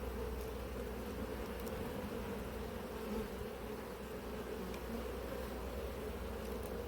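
Dense, steady buzzing of many honey bees at an open hive in an apiary, a constant close swarm hum with no pauses and no voices.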